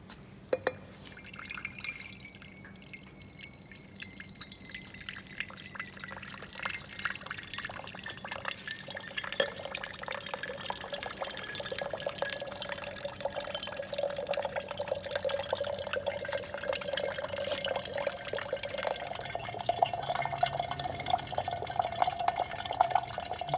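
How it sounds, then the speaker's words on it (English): Steady water running and trickling into a beaker for a long stretch, filling to 400 ml in about 42 seconds, the pitch slowly rising as it fills. "we will take 400 ml of water in the beaker and measure the time it takes to fill"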